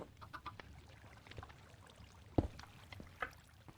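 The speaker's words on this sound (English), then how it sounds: "Shut up, chickens." Video game chickens cluck softly in the background with scattered short clucks and one sharper squawk, faint and intermittent, no talking.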